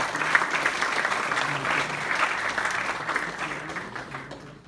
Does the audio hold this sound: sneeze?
no